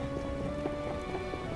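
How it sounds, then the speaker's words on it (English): Steady rain downpour in The Witcher 1 video game, a continuous dense hiss of falling rain, constant in level, with no talk. "I didn't agree to this downpour."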